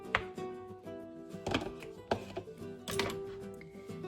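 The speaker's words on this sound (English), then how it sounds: "I'm going to go ahead and cut these eggs up" A knife slicing boiled eggs on a cutting board in a home kitchen for deviled eggs, several separate soft chops and thunks spaced a second or so apart, quiet and close, with no talking.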